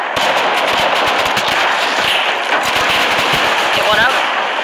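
Dense automatic gunfire crackles almost nonstop during a base raid in the video game Rust, rapid overlapping bursts that stay loud throughout, with players' voices in the mix.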